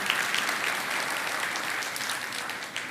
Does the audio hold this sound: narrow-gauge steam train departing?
no